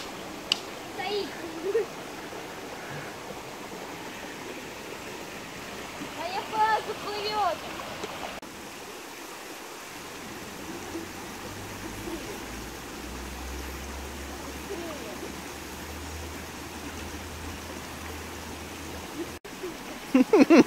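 The milky-white Agura mountain river at Vysotsky Glade flows in a constant rushing wash of water that stays steady throughout. People talk intermittently over it.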